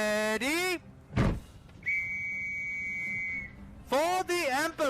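A long, steady whistle blast rings out alone, held for about two seconds, with voices before and after it as infantry prepare to charge.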